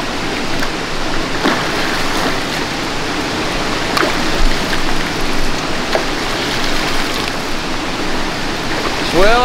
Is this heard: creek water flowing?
yes